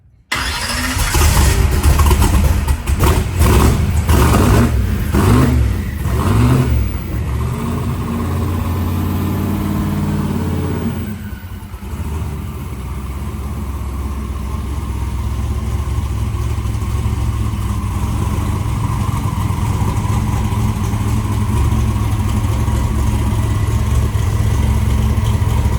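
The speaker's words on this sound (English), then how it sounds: "Ball bearing turbos just keep whistling." A Nova drag car with ball bearing turbos fires up with a loud rough start and bursts of revs, then settles into a heavy, steady idle with a continuous high whistle from the turbos running throughout.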